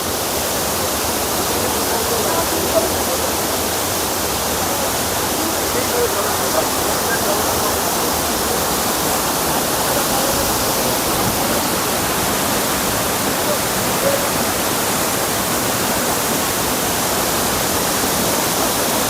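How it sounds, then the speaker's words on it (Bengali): The Bhimkund waterfall in Keonjhar thunders at full monsoon flow, a loud, close, unbroken roar of rushing water that fills the whole scene evenly from start to finish. "ঝর্ণার আওয়াজ দেখুন।"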